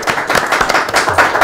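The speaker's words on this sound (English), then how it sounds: "Round of applause for that as well" A crowd at a live talk event breaks into brief, dense applause, many hands clapping together close and loud, with a voice faintly underneath.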